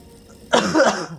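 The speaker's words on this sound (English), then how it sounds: "Once again, coughing strikes again." A single harsh cough with a throat-clearing rasp bursts out suddenly after a quiet moment, close and loud, then trails off.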